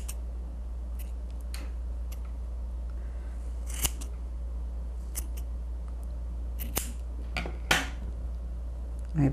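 Scissors snip thread ends on a handmade baby mobile for a nursery, a handful of sharp separate cuts spaced out over a steady low hum, close and fairly quiet with no talking.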